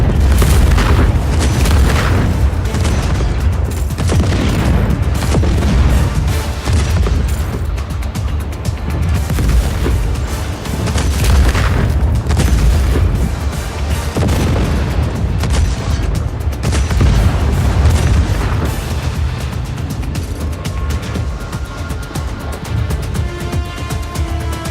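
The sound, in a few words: cannon explosions in video game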